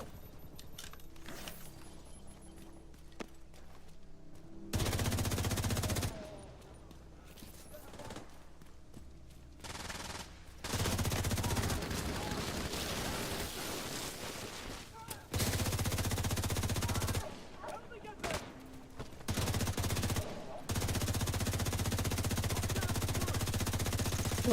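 Automatic weapon fire in The Division 2 video game comes as several sustained, loud bursts and clattering volleys mixed with game sound effects, with a player talking over parts of it.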